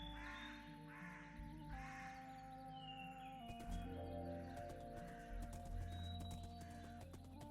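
Horses in the Minecraft video game neigh and whinny repeatedly, with game bird caws and clip-clopping hooves layered over a steady background of game music and ambience.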